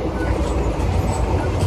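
A Circar Express passenger train running on rails, heard from inside as a steady loud rumble with low rhythmic clatter of wheels throughout.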